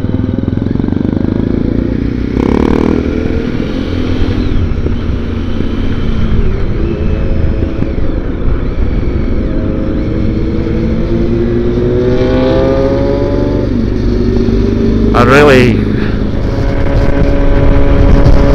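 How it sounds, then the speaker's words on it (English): A Honda CBR600 motorcycle's engine and aftermarket exhaust pipe sing steadily while riding, loud and close with a rising rev sweep late on, under constant wind noise. "CBR6 actually sings. That's, that pipe sounds well."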